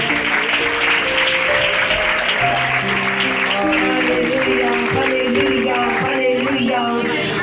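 A church congregation claps loudly and continuously during a sermon, while sustained tones ring over the clapping, probably from a keyboard or organ, and voices rise here and there through the din.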